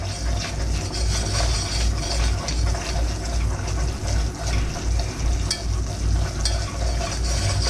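A whisk scraping and stirring a flour roux in a pan over medium-high heat for white cheddar mac and cheese, a steady fizzing sizzle with rhythmic swishing strokes throughout, close and continuous.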